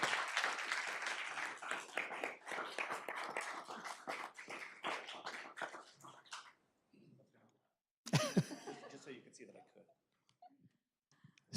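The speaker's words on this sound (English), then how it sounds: "Let's give Steve Weatherall applause." An audience at a school board meeting applauds Steve Weatherall, a sustained round of clapping that tapers off into silence, followed by a short burst of scattered handling noises and coughs.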